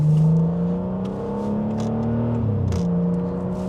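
A BMW 6 Series F06 engine revs up close in sport mode, its pitch rising and then dropping back to a steady hum, loud and continuous with no talking.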